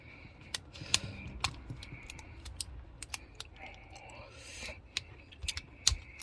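A small screwdriver prying the CR2032 battery out of a Honda key fob: sharp plastic clicks and scrapes, several distinct snaps spread irregularly, close and fairly quiet over a soft background.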